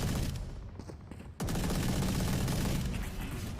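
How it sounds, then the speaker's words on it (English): Odin machine gun fire in Valorant during a tournament match, a brief quiet stretch broken by a sudden loud burst that continues as dense, sustained automatic fire. "Desperate pot shots, really, with the Odin"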